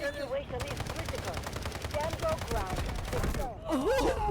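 Rapid automatic gunfire in the Delta Force video game, a steady rattling stream of close shots with a short pause near the end, while a voice talks and exclaims over it.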